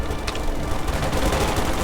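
Battlefield gunfire in the Company of Heroes 2 video game, Ardennes Assault campaign: a dense, continuous crackle of rifle and machine-gun fire with muffled blasts, loud and unbroken throughout.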